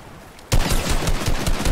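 Exchange of gunfire in Fortnite, a sudden burst of rapid shots starting after a short quiet moment and continuing loud and dense.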